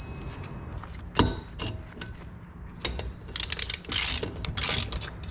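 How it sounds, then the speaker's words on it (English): Metallic ratcheting clicks and clanks as a torque multiplier tool is fitted onto the rear brake drum nut of a 1971 VW Super Beetle, irregular close mechanical taps and rattles with brief gaps between them. "Next we're going to install the torque multiplier tool."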